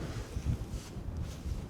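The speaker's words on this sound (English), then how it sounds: "It's pretty cold and windy." Cold wind blows outdoors on a hunting trip in the mountains, a steady low rumble buffeting the microphone with no talk.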